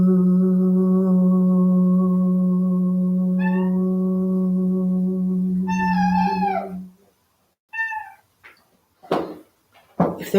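A cat meows a few times over a steady sustained drone during a chanting meditation, the calls rising and falling, with the drone fading and short noises following.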